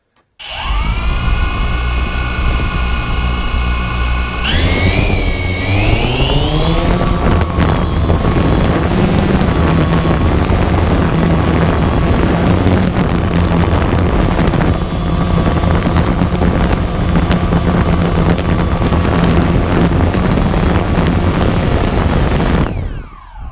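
DJI Phantom quadcopter drone with an attached GoPro, its rotors whining loudly and close, pitch rising as it spins up and lifts off, then a steady roaring buzz mixed with wind buffeting the microphone until it cuts off.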